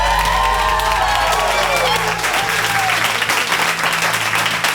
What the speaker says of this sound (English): I want to give you all a big round of applause for getting here